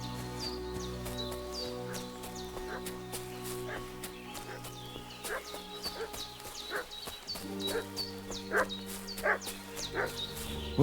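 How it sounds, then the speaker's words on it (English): A dog barks repeatedly at a distance in a medieval village in Kingdom Come Deliverance 2, with uneven volleys of yaps and woofs over a low sustained tonal music bed that grow louder toward the end. "What's that dog making such a fuss about?"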